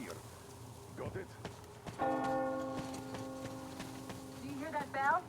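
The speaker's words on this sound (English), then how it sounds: "Do you hear that bell?" A large bell in the video game Metro Exodus strikes once and rings out with a long sustained tone that slowly fades, while voices speak briefly before and after it.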